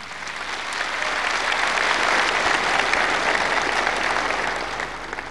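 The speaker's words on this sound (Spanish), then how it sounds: "Así que un fuerte aplauso," A large crowd at an outdoor public event in Cochabamba, Bolivia, claps loudly in a dense, steady roar of applause that swells and then fades slightly toward the end.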